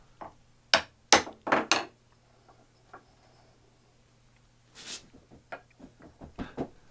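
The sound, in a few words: tapping workbench vise end cap into place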